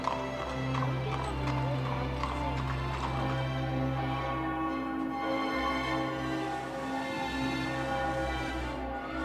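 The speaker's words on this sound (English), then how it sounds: "The area is full of clacking hooves and beautiful history." Horse-drawn carriages on a Vienna square near the Hofburg Imperial Palace, hooves clip-clopping steadily under constant street ambience with a voice talking over it.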